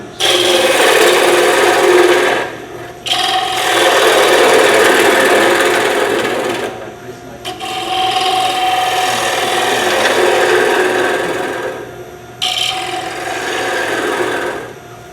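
A bowl gouge cuts wood on a lathe, giving loud, steady rasping passes of a few seconds each, separated by short pauses between cuts.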